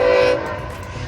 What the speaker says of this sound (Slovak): Nákladné vlaky v USA sú neskutočne dlhé.